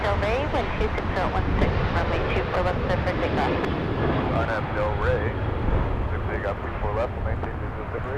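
An airplane departs Los Angeles International Airport from the north side, bound for El Paso, Texas, a steady, loud jet roar with wind buffeting the microphone and people talking over it.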